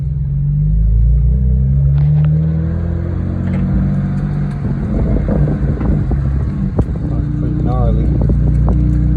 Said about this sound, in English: here's a video of the car running